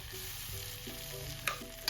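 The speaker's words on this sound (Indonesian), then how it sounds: "Kemudian tumis sampai bumbu benar-benar matang." Ground spice paste sautéing in a pan for spicy-sweet dry tempeh, a soft continuous sizzle with a faint stirring scrape partway through and a brief knock near the end, quiet and without voices.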